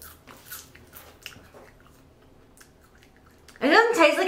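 A fried tarantula spider is bitten and chewed at a mukbang eating show, a sudden loud close crunch near the end after quiet background sounds and faint voices.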